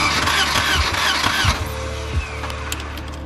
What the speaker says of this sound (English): Well, crank it, see if it has spark.